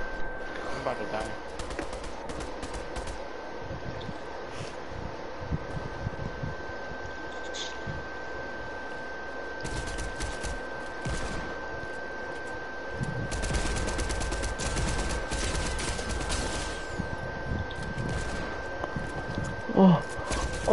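Hip-fired guns in a video game let off scattered bursts of rapid gunfire, some close and sharp, others lighter and farther off, over a steady game hum while a player talks.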